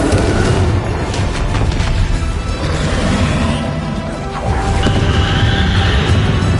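Spell blasts in Hogwarts Legacy, Bombarda and Confringo, erupt as a dense run of booming crashes and whooshing impacts, loud and continuous, with explosions overlapping one another and no talking.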